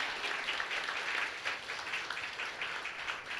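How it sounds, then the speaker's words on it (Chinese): An audience claps in a steady wash of applause for a newly married couple at a church service, fairly distant and soft, sustained throughout with no talking. "哇，热烈掌声！"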